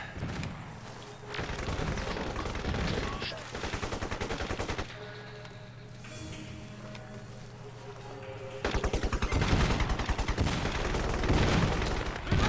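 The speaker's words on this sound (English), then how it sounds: "They're shooting something." Bursts of rapid automatic gunfire in Crysis, loud and sustained in two main stretches with a quieter gap between, distant rattling shots continuing underneath.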